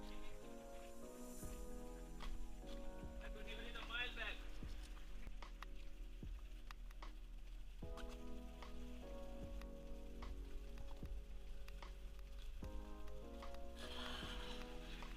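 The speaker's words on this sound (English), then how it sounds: "the voice of the water is getting louder and louder as we are coming close to it" The Sada waterfall, hidden in the jungle of Goa, sends a distant, steady rush of falling water, faint and continuous beneath louder background music.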